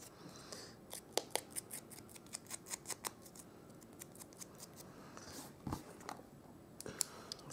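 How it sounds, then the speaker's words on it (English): Scissor blades scrape and snip along a paper card edge to distress it, in a quick uneven series of short crisp cuts, close by, with a few scattered louder clicks. "get my scissors and give it a good rough up the other way, like that, towards me"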